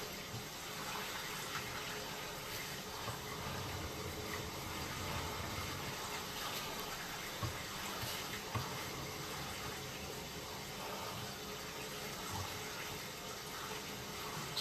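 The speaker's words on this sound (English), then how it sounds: "Slight offset again with a little bit of water escaping from the bell hub again at the 4 o'clock position." Water running steadily inside a pipe under inspection, a continuous faint rushing trickle from an offset bell hub with no voices.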